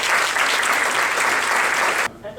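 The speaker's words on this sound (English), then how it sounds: "So let's give Kermit a warm round of applause." A burst of audience applause, dense and steady, cutting off abruptly near the end.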